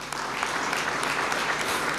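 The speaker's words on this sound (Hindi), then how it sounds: "इनके लिए भी तालियां।" Congregation applause during a church gathering, a continuous wash of many hands clapping, loud and even throughout with no breaks.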